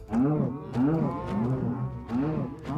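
Several low, drawn-out moos from Minecraft cows in quick succession, loud and close, with a slightly synthetic, game-like quality.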